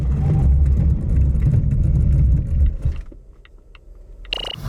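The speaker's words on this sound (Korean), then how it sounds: "볼보 S60 과연 제동 성능은 얼마나 되는지 볼까요?" A 2021 Volvo S60 B5 brakes hard during a braking test, its road and engine roar fading quickly as the car slows, followed by quieter mechanical sounds and a short high tone at the end.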